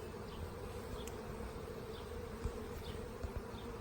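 Honeybees buzz around an open nucleus hive, a steady, close, fairly quiet drone with a few individual bees zipping past the microphone, and no talking.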